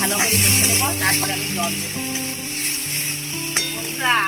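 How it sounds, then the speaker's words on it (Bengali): Tomato, potato and spices sauté in a pan with a continuous close sizzle and stirring scrapes, while a voice talks over parts of it. "আমার টমেটো আলু আর মশলা ভালো করে কষে নিয়েছি"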